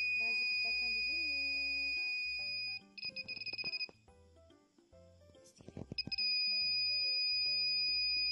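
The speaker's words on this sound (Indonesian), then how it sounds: "Buzzer kita akan berbunyi." An electronic social-distancing proximity buzzer beeps in a series of short high-pitched pulses when someone comes within a metre, quiet and close, amid soft tones and clicks.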